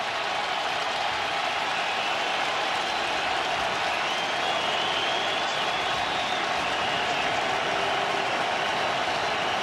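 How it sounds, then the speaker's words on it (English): A stadium crowd at a Falcons vs Giants NFL game roars in a dense, continuous wash of cheering that stays loud and unbroken throughout. "Oh, here goes the crowd."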